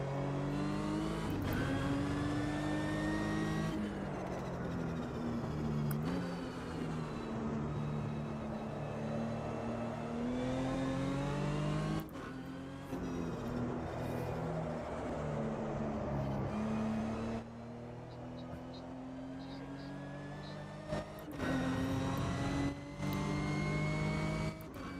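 A race car in the driving game Automobilista 2 revs and shifts through gears, the engine pitch repeatedly rising and dropping as it accelerates and brakes through corners, loud and continuous with no talking.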